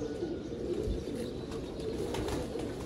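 Breeder pigeons coo softly in a loft, with low throaty calls repeating under a continuous murmur of birds and faint chirps.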